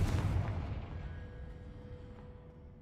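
A Confringo fire spell from Hogwarts Legacy detonates in a deep, loud boom that rolls away and fades over a couple of seconds into quiet.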